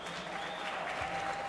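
A high school concert audience claps for band soloists, a brief, dense burst of applause from the crowd.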